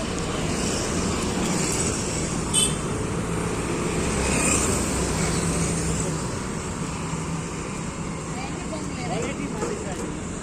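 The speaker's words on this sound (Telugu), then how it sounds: "ఇక్కడ కొంచెం ట్రాఫిక్ ఎక్కువనే ఉంది ఫ్రెండ్స్." Busy road traffic on a street lined with shops, a steady rumbling wash of engines and passing vehicles heard at moderate distance, with people talking over it.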